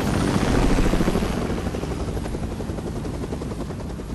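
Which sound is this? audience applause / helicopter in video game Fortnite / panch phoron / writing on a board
helicopter in video game Fortnite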